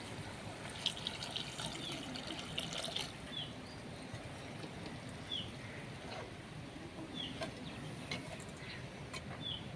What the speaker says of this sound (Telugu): ఇప్పుడు మనం తగినన్ని నీళ్ళు అయితే వేసుకుందాం పులుసుకి.